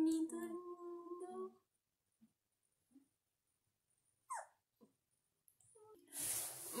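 A newly arrived puppy gives high, drawn-out whimpers at close range in a quiet room. A few short whines and yips follow after brief silences, and a burst of noise comes at the end.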